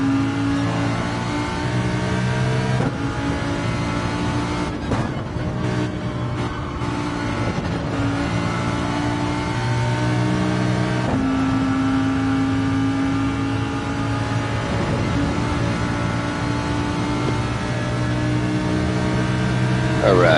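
A race car engine in a Gran Turismo-style racing game holds a steady high drone with several changes in pitch as it shifts through the gears, while someone talks over it.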